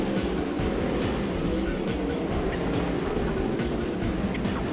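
Sprint cars race around a speedway at a night Speedweek final, a dense continuous roar of engines that stays loud and steady throughout with no break.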